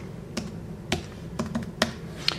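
Password being typed on an Apple keyboard: about six crisp, separate key clicks spaced irregularly, close and clear against a quiet room.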